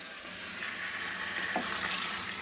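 Water pours steadily into curry in a pan, a continuous splashing rush that lasts throughout at moderate loudness with no talk.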